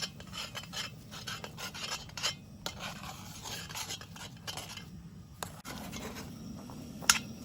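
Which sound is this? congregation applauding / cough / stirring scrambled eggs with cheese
stirring scrambled eggs with cheese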